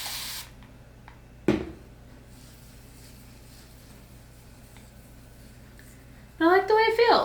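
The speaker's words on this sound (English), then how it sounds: "I'm going to spray a little bit of water" Two quick hissing spritzes from a spray bottle misting water onto hair, separated by a quiet pause, then someone starts speaking.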